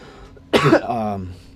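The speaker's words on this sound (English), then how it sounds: "excuse me for coughing so much" A single harsh cough bursts out close by, trailing into a voiced throaty rasp.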